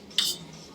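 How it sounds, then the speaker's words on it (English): A utensil stirring a cooking mixture in a bowl gives one short metallic clink and scrape near the start, followed by quiet background. "I'm going to mix that up real good"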